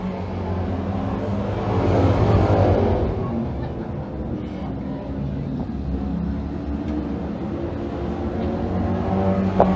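DIRTCAR Pro Stock race cars roar around a dirt speedway, a dense blend of engines rising to a loud swell as the pack passes, then holding a steady drone under announcer-style commentary.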